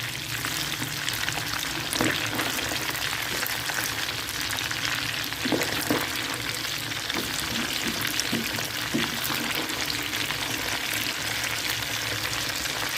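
Fish frying in oil over high heat, a dense, steady close sizzle with occasional light clinks and pops from stirring, continuing without a break and without voices.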